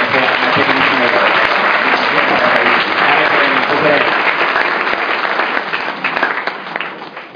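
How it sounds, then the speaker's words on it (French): A loud, dense burst of applause and cheering from an audience at a French Sunday church service, honoring the technicians, sustained for several seconds before tapering off near the end. "Une acclamation pour nos techniciens qui ont vraiment"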